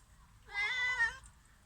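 A calico cat gives a single clear, drawn-out meow close by, with quiet surroundings before and after.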